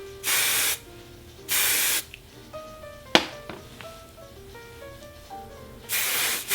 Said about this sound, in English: I'm going to use some hairspray with a bit of a shine to it.